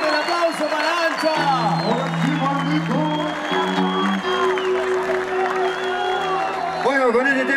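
A concert crowd at a beer festival in San Javier gives the band a sustained ovation, with loud clapping, cheers and whoops throughout and a voice carrying over the noise.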